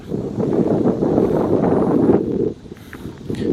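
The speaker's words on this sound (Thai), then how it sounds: "อากาศเย็นสบายลมโชยนะครับ" Breeze blowing across a grassy camping area beside a dam, a steady rushing wind buffeting the microphone for about two and a half seconds, then easing to a softer, gustier hiss.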